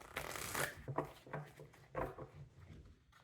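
Tarot cards being shuffled in a few quick riffling bursts, soft papery flutters with short pauses between, close by and fairly quiet.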